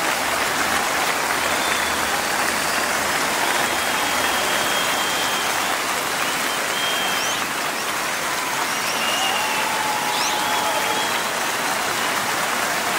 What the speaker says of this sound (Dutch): Geef ze nog een enorme applaus,